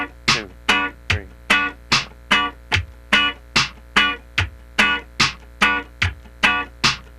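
Funk rhythm guitar strumming short percussive strokes in a steady pulse of about fourteen chord chops on the upbeat sixteenth, each a bright clipped hit, close and with no talk.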